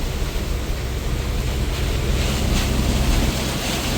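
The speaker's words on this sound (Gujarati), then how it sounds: "આ બાજુ વરસાદ વધારે" A steady, heavy roar of wind and pouring rain fills the air without a break, loud and close, with no voices.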